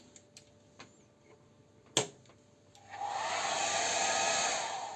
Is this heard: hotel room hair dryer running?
yes